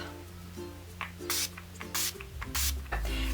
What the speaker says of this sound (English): So I'm going to use the Urban Decay All Nighter Makeup Setting Spray.